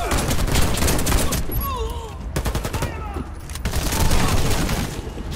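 Automatic gunfire in the online shooter Warface, loud rapid bursts broken by short pauses, with whistling and whooshing effects and distant shouts scattered through the firefight.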